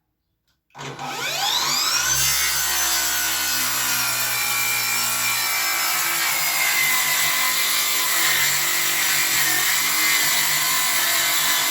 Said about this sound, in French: je visse ces 2 planches là pour me faire un guide pour la scie circulaire, histoire de faire une découpe bien droite.